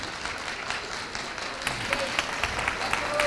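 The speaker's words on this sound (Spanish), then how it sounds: "os pido un aplauso para ellos, por favor" Audience applause at the Gastrónoma 2019 food event as two chefs are called up, building from a lighter patter to fuller clapping with distinct claps near the end.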